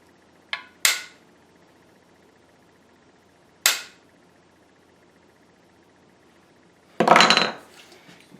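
A cheap imported $25 jack plane cuts shavings from a wood board after its iron is adjusted. Three brief, crisp scrapes are followed later by a longer, louder rasping stroke, all close up in a quiet room.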